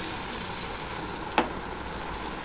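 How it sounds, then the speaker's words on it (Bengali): Ginger, garlic and onion spice paste fries in a pan with a steady, loud, close sizzle and one short stirring clack partway through. No one talks. "আদা রসুন পেঁয়াজ দিয়ে ভালো করে মশলাটা ভাজা ভাজা করে কষিয়ে নেব।"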